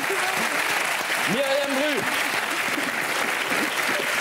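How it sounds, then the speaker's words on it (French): Studio audience applauding steadily in a television show, a loud dense clapping wash that runs the whole time, with a voice speaking briefly over it. "On l'applaudit."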